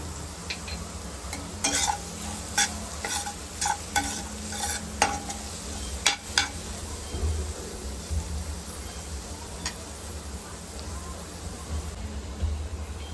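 Onion and cumin stir-fry in a pan, a constant low sizzle under repeated sharp scraping and tapping strokes from a spoon against the pan, close and fairly loud, without speech.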